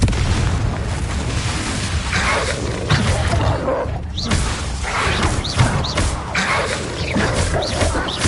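Spell blasts from Confringo and Expelliarmus in a Harry Potter–style PS4 game, a dense run of booming, roaring bursts that come one after another without letup, loud and close over a steady rumbling background.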